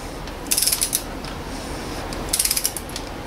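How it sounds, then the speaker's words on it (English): A torque wrench ratchets close by while tightening the oil filter on a Volvo V, giving two quick bursts of sharp metallic clicks about two seconds apart over a low steady background hum. "now I'm using the torque wrench here to"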